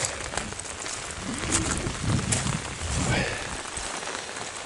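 Steady rain falls on surfaces near a river during the rainy season, a dense, even patter with no talk over it.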